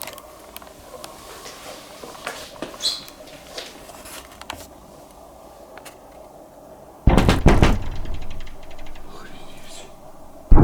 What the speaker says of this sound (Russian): Сильно долбить начали в дверь.